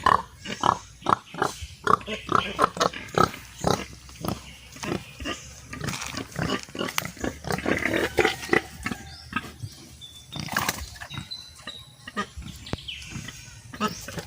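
Pigs grunt and snort repeatedly in short, irregular bursts close by, with occasional squeals and faint birdsong in the background.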